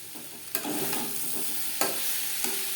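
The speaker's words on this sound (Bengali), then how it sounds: "জিরের গুঁড়ো বেশ ভালো করে মিক্স করে দেব" Fried vegetable stems are stirred in a pan with grated coconut and fried cumin powder. Three sharp spatula scrapes cut through a soft, steady sizzle, close and clear.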